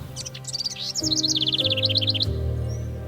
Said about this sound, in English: The chirping sound of the birds